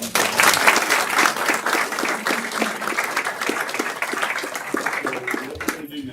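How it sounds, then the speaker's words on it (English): Applause fills a city council meeting room in Columbia, Tennessee, a steady round of clapping from the gathered audience that holds for several seconds with a brief voice or two underneath. "Let's give them another round of applause."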